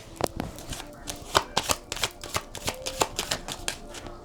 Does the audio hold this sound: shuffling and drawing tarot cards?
yes